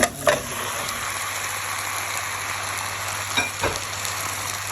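Chopped chicken frying in a pan, a steady, close hissing sizzle that continues throughout with a few sharper crackles and clicks, no voices.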